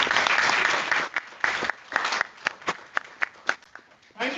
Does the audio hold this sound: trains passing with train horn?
no